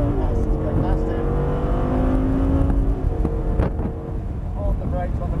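Audi R8 V10 race car driving on a track, its engine droning loud and steady with rising and falling pitch as it accelerates to pass another car, with a voice talking over it throughout.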